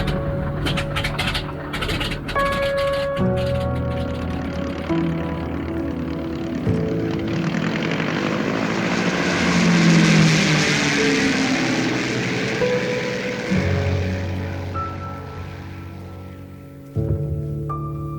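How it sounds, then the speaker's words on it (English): A float plane on a fly-in fishing trip in Canada drones with its propeller engine through the flight. The roar is loud and close, swelling midway and then easing off. "the use of the float plane."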